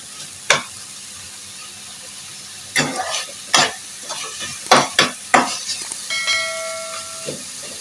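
Chopped tomatoes fry in a pan and are stirred with a spoon, giving soft background sizzling broken by several sharp scraping strokes spaced irregularly, with a brief tonal ring near the end.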